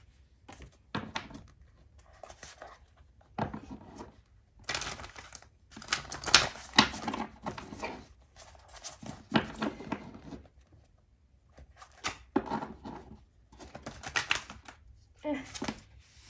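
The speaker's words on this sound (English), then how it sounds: "why can't I shuffle this?" Tarot cards being shuffled by hand in bursts of crisp riffling and flapping, with pauses between rounds, and a person talking intermittently.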